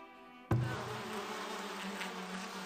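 Bees buzzing in the video game Farthest Frontier, a steady insect drone that starts abruptly and holds on continuously and evenly, with no talk over it.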